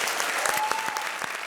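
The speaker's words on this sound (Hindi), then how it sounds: "जोरदार तालियां हमारी लाडली जोड़ी कृष्णा और सुदेश के लिए." A studio audience on a Hindi comedy show claps loudly and steadily in a dense, continuous burst of applause, close and filling the room.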